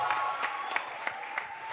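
Crowd clapping at a dance event, a quiet, continuous patter of applause heard from a distance with a few sharper claps standing out and no voices on top.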